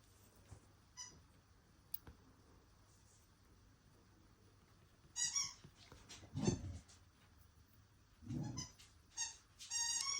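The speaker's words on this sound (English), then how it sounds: "I'm just going to take this squeaky toy off my dog a sec." A dog squeaks a rubber squeaky toy indoors, giving a few scattered high squeals and bursts of chewing over a quiet room, with short pauses between each round of squeaking.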